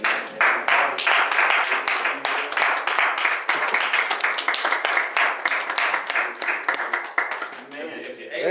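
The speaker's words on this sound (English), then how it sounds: "I feel like we ought to give the Lord a standing ovation" A church congregation breaks into a standing ovation, loud sustained clapping with scattered cheers and voices filling the room, steady for several seconds before thinning slightly at the end.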